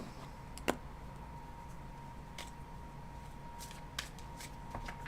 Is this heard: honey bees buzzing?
no